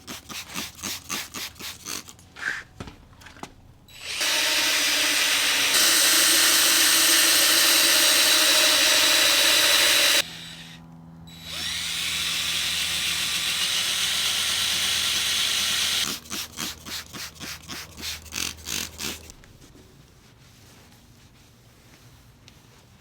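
A Mercedes C-Class W204 taillight is wet sanded with 800 grit sandpaper, giving two long, loud, steady rasping stretches of rubbing between bursts of short rhythmic back-and-forth strokes, close up with no talking.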